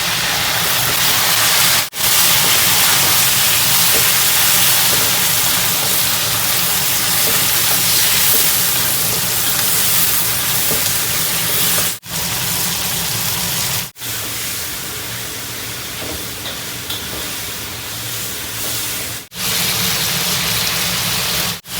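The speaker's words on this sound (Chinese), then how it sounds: "炒香后，把鸡下锅。" Chicken pieces hit a hot wok of oil with fried ginger, garlic, spices, dried chillies and chilli bean paste, throwing up a loud, continuous rushing sizzle that drops out briefly a few times, with no voices.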